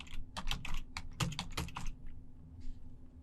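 Computer keyboard being typed on to enter a proxy address: a quick burst of close key clicks in uneven rhythm, trailing off into a couple of softer taps over a steady low hum.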